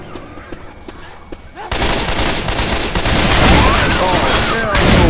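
Heavy gunfire in Left 4 Dead 2 breaks out after a quieter moment, dense overlapping shots in a loud continuous barrage while players shout to each other.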